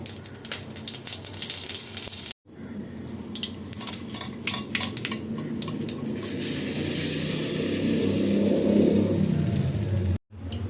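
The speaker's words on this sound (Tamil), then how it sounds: "கடுகு உளுத்தம்பரு போட்டுக்கலாம் காஞ்ச மிளகா போட்டுக்கலாம் கருவேப்பிலை போட்டுக்கலாம்" Mustard seeds, urad dal, dried chillies and curry leaves are tempered in hot oil in a pan for an Andhra ginger chutney. A dense, steady sizzle and spatter runs close and continuous, swelling louder partway through.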